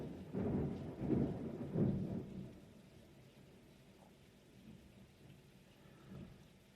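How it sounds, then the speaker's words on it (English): Heavy rain falling steadily with several loud, close rumbles of thunder in the first few seconds, then a quieter stretch of rain with a faint later rumble. "It's raining very hard here, and there's lightning and thunder."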